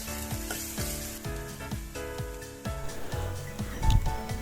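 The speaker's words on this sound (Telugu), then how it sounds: "ఇప్పుడు 2 పచ్చిమిర్చి చీలికలు వేసి వేయించుకోవాలి. అందులోనే యాలకులు, దాల్చిన చెక్క, లవంగాలు, బిర్యానీ ఆకు వేసి వేయించుకోవాలి." Green chillies with cardamom, cinnamon, cloves and bay leaf fry in hot oil for mutton keema curry, a steady close sizzle with repeated scraping stir strokes and a louder burst of crackle near the end.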